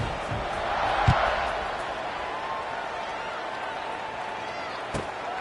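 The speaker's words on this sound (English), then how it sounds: "this crowd is buzzing after that last score" Football stadium crowd roaring and buzzing after a score, a steady wide wash of distant voices that swells around the second mark, with a couple of sharp thuds.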